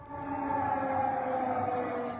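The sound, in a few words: air raid siren in Poland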